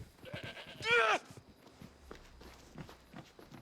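A goat in Assassin's Creed Odyssey gives one short, loud bleat over scattered game footsteps and sounds, while someone talks through much of the clip.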